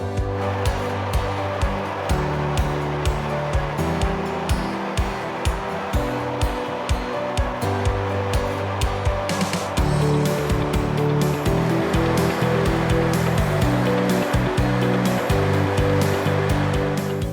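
A milling machine grinds coarse-ground produce, giving a loud, continuous roaring drone struck through with regular rhythmic thumps that shift pattern partway through.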